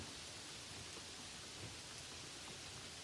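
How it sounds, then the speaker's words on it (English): Steady rain drums on a campervan roof by a Norwegian fjord, a dense, even hiss with no break, soft and constant with no voices. "the rain finds the roof"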